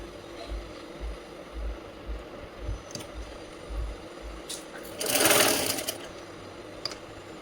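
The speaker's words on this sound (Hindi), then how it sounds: "इस तरह से सिलाई लगा दीजिए।" A sewing machine stitches a puffed sleeve in net fabric, with short bursts of low rapid motor whirring in a stop-start rhythm, close by, then a louder rustle of fabric handling and a few light clicks.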